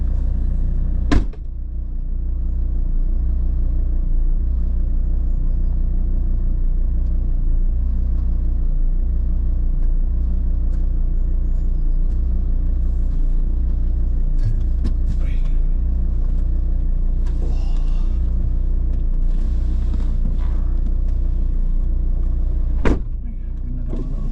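Steady low engine and road rumble heard from inside a car on a drive out from South Shields, continuous and fairly loud, with a couple of sharp knocks near the start and end.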